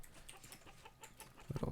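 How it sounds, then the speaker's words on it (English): A chicken in the game Vintage Story clucks in a few short bursts near the end. Faint scattered rustling comes before it, and no one speaks. "Whoa! Chicken on the attack."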